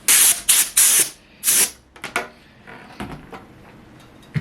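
Several quick hissing spritzes from a spray bottle in a rapid burst, followed by softer handling clatter and a few fainter sprays.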